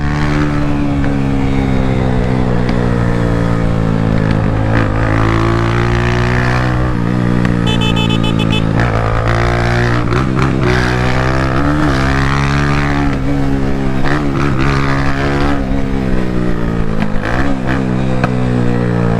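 A motorcycle engine with no muffler, heard on a Jamaican street, drones loud and close, its pitch rising and falling as it revs, with no voices.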